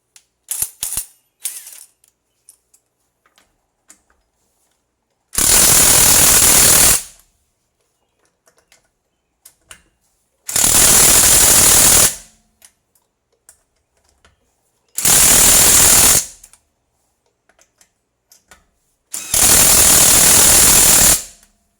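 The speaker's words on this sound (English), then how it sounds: "I'm gonna go ahead and use my torque limiter, impact gun" A torque-limiting impact gun rattles on the strut nuts of a 2015 Toyota Camry in four loud, close bursts of about one to two seconds each, separated by quiet gaps with faint clicks.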